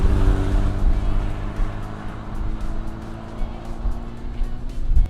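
A Pacific Blue BMW 2002 on a road test drive, a steady low engine drone with road rumble heard from inside the car, holding fairly constant and a little louder near the end.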